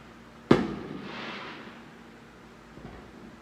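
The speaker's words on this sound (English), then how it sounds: "they're doing firecrackers right there" A single sharp firecracker bang goes off outdoors, moderately close, then fades into a lingering crackly rumble and echo over roughly a second, with a faint pop near the end.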